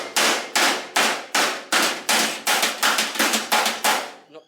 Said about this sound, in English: You get a bit of a better feel for it when you can actually feel the hammer and what it's doing